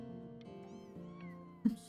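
A cat meows in the video game Before Your Eyes, with one short, fairly loud meow near the end following a quieter stretch of steady tonal game sound.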